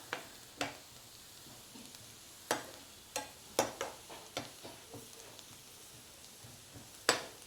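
A spatula taps and scrapes against a pan as a curry base is sautéed for an instant curd curry. The sharp clicks come irregularly over a faint, quiet sizzle.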